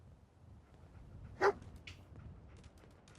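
Companion dog Dogmeat in the video game Fallout 4 lets out a single sharp bark, close and loud against quiet ambient game sound, followed by a fainter yip.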